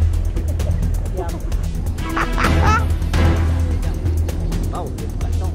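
Geese or fowl honking and calling nearby in an outdoor setting by water, a few loud honks standing out over constant low engine-like rumble and background noise.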